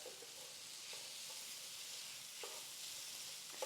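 Quinoa dumped into a frying pan while cooking, heard as a steady hiss of sizzling with a few soft scraping and stirring clicks scattered through it.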